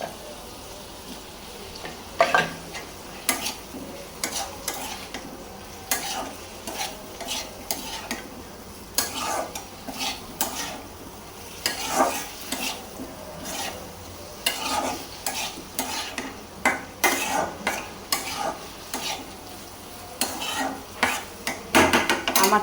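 A potato is mashed and stirred into a simmering curry in a wok, making repeated close scraping and clattering strokes of a spoon against metal over a soft, steady sizzle.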